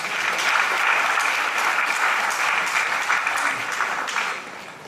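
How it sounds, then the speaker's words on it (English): Sustained audience applause fills a university lecture hall at an inaugural lecture of the University of Nigeria, Enugu campus, a dense steady wash of many hands that holds for several seconds before easing slightly at the end. "We deserve a hand of applause."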